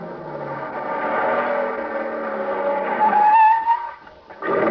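A radio-drama sound effect of a car driving fast: a rising, whining engine tone builds for several seconds, then sharp tire squeals take over before a brief tail of noise.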